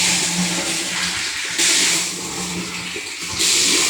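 Water gushes and splashes steadily, rising louder in two surges as a 1,000-litre tank fills from a strong flow. No talking.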